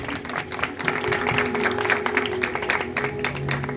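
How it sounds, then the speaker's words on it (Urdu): A church congregation claps together, a loud continuous patter of many hands close to the microphone, with faint crowd murmur underneath. "سب مل کر اپنے زندہ یہوہ خدا کے نام کو جلال دیتے ہوئے زور سے اس کا استقبال کرتے ہیں تالیاں بجا کر"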